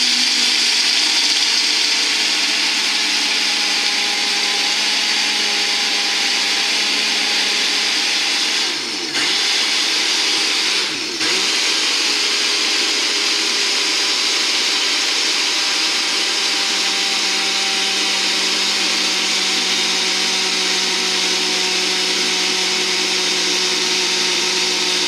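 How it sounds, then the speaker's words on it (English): Ninja blender running at full power, a loud, steady whirring motor roar that dips sharply twice, briefly, then carries on evenly, close by and with no talk. "And blend."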